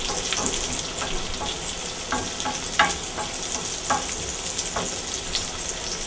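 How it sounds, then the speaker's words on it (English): Garden vegetables and cherry tomatoes sauté in a pan with a steady close sizzle, broken by occasional soft pops and stirring clicks. "Now this sautés until everything gets nice and tender."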